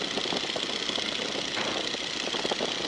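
The radial engine of a 1942 Boeing Stearman biplane drones steadily at reduced power after being throttled back, a continuous mid-level rumble and buzz with no talk over it.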